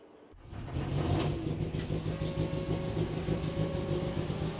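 A race car engine in the racing game Automobilista 2, a Copa B car at Cascavel, roars steadily and loudly after a brief quiet start, with a sustained buzzing drone and slight pitch shifts.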